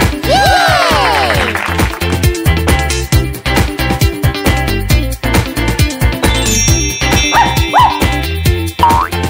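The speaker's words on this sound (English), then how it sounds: "A dog!" A toy dog from a surprise egg gives bright electronic yips and whimpering barks over a busy, bouncy children's music track.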